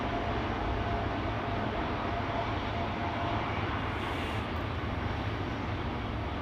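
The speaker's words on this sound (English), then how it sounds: "Dreamliner coming this way? I think it is." A Boeing 787 Dreamliner taxis or passes at Schiphol Airport, producing a constant, fairly loud jet engine roar with a smooth, unbroken wash of noise.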